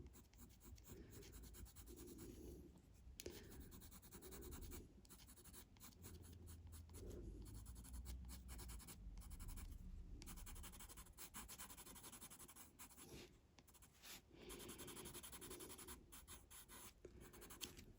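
Chalk pencil shading highlights on paper, a very quiet, continuous close-up scratching and rubbing with irregular strokes over eighteen seconds, no voices.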